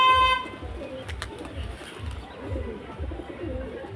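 Domestic racing pigeons cooing close by, a run of low rhythmic coos repeating about twice a second, with a faint horn-like tone at the start and light background noise.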